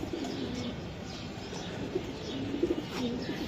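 Racing pigeons kept by a Bengali fancier coo softly in a loft, several low throaty calls scattered through the span over a faint background, with no talk.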